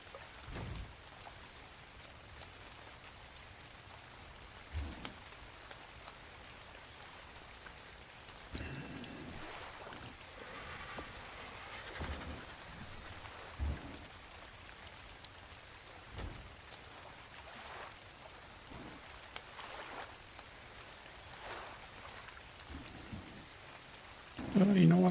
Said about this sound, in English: it must be all the rain we're having